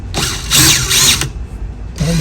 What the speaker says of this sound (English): Put the drill in reverse.